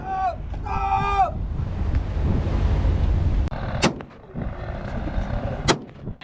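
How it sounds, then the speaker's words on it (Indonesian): Warning gunshots fired into the air from a patrol ship chasing a fleeing fishing boat at sea off Natuna: two sharp loud cracks, a second apart, over wind and engine rumble with brief rising tones at the start. "Tembakan peringatan ke udara."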